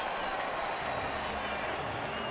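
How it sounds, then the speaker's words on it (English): A baseball crowd applauds a one-out walk to Pete Orr at a Phillies home game against the Cubs, a dense, steady wash of clapping and murmur with a voice talking faintly underneath. "Crowd applauding the walk."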